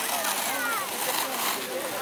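Water from a hose splashes and sloshes onto a fire in a quick, continuous spatter close by, with voices talking over it.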